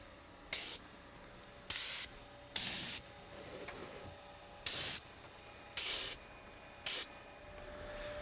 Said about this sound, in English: He's using a spray shield to prevent the overspraying of paint onto our metal roof.